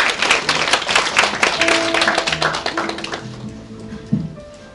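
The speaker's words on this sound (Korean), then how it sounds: "큰 박수로 모시겠습니다." An audience at a high school admissions briefing claps to welcome a presenter, a dense burst of applause that thins out and fades over a few seconds.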